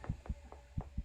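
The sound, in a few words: heartbeat sound effect in the video game Crimson Snow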